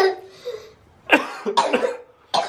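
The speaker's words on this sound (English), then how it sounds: "You heard me coughing too." A person coughs several times in quick harsh bursts, close to the microphone, with short pauses between.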